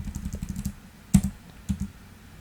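Keystrokes on a computer keyboard entering AutoCAD commands: a quick run of light taps at the start, then two louder, sharper key presses spaced about half a second apart, heard close and without talk.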